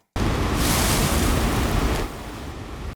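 A small wave sound effect, a steady broadband wash of surf that swells for about two seconds, then eases into a softer, quieter tail before cutting off abruptly, with no voices.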